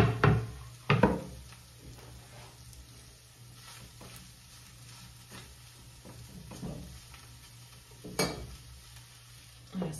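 Pork browning in a hot pan, a soft steady sizzle with occasional scraping stirs and utensil knocks against the pan, heard close with no talking.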